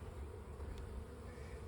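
Honey bees buzz in a dense, continuous hum during an open hive inspection in spring, close and steady at a low level with no one talking.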